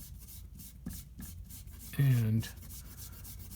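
A kneaded eraser buffs a blue pencil sketch on paper, giving soft, faint rubbing strokes in a loose rhythm, with a brief spoken word partway through.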